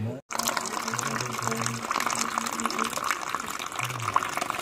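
Cucumbers are washed under running water, a steady splashing gush from a tap that continues throughout, close by, with a voice talking over it at times.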